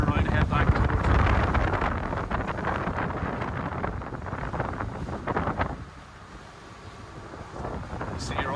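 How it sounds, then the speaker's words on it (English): Breeze on a Scottish loch gusting against the open window of a 2003 Viki 32 Fly motorboat, a rough, loud wind rush with a low engine rumble underneath, easing slightly near the end. "If you want to slide the window open, it's a bit breezy today on the loch."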